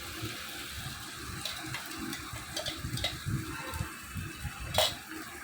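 Water trickles into a mixer grinder jar, a faint, steady pouring with a few light clinks, heard close in a quiet kitchen while cooking a taro paste dish.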